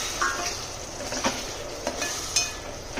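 Grated tomato paste goes into hot spiced masala in a pan for a ridge gourd and chana dal curry, a steady close sizzle broken by a few stirring scrapes.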